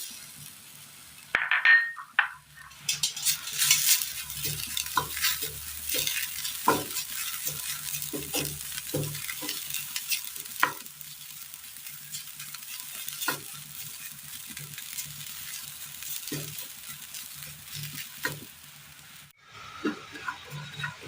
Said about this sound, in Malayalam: ഇനി ഇത് തയ്യാറാക്കുവാനായിട്ട് അടുപ്പത്ത് പാൻ വെച്ച് കൊടുത്തതിന് ശേഷം ഇതിലേക്ക് നമുക്ക് തേങ്ങ ഇട്ട് കൊടുക്കാം.